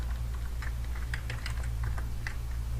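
A computer keyboard clicks as a short command is typed in a Kali Linux terminal, scattered quick keystrokes close up over a steady low electrical hum.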